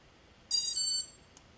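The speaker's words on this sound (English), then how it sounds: "You'll hear 2 beeps." FPV quadcopter electronics give a short, bright electronic beep tone lasting about half a second, followed by a faint brief blip, quiet and isolated.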